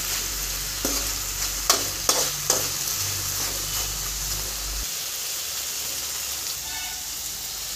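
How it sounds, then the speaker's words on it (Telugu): Boiled dal being stirred into drumstick sambar in a pot, a steady bubbling sizzle with a few sharp scraping strokes early on, close and moderately loud, with a low hum fading out midway. "ఇందులో ఉడకబెట్టుకున్న బాగా కలుపుకోవాలండి. దాలి మొత్తం ముక్కలకు పట్టేంత వరకు కలుపుకోవాలి."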